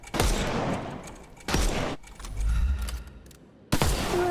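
Gunshots at mannequins in the video game Sherlock Holmes Chapter One, loud booming shots in three separated volleys, each followed by a decaying rumble, with a low clatter between them.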